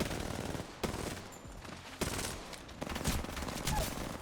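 Gunfire from an Apex Legends match, with repeated sharp weapon shots and bursts spread through the clip over a steady game soundscape, fairly close and loud.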